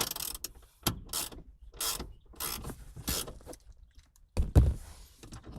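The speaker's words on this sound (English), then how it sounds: "Let's tighten down this pinch bolt." A ratchet tightens a pinch bolt on a short shifter in a third-generation Mitsubishi Eclipse, giving several close bursts of rapid clicking strokes separated by brief pauses, with a heavier clunk near the end.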